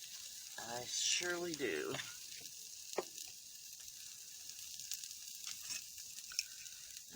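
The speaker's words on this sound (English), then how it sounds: "Because even though it's bacon bits, it still is gonna spit when it starts cooking." Bacon bits sizzle and spit in a pan on the stove, a steady broadband crackle that runs under a short spoken phrase at the start and continues alone with a few sharper pops.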